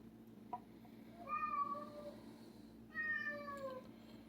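A house cat meows twice, a short call followed by a longer drawn-out one, fairly close but soft over a quiet kitchen background hum.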